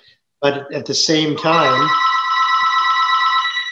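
Someone speaks briefly before a telephone starts ringing, and the loud, steady electronic trill then continues unbroken through the rest of the moment.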